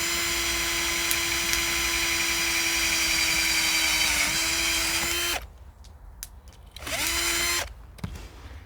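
A power drill with a sharp bit bores into metal with a wood block braced behind it. It runs loud and steady for about five seconds, briefly dips in pitch, stops, then gives a second short burst followed by a click.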